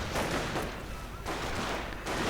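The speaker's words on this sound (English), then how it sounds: "And he gets a mortar half-track with a satchel charge." Satchel charge blows up a mortar half-track in a war strategy video game, a dense rumbling roar of explosion and scattered gunfire that swells, dips briefly, then surges again, loud and continuous.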